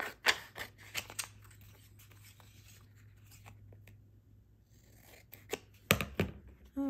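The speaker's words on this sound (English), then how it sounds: "then I will cut around here again" Scissors snip around a handmade paper tag for floral and bunny ephemera, a few close crisp cuts and rustles at the start, a quieter stretch of light handling, then a sharper burst of cutting near the end.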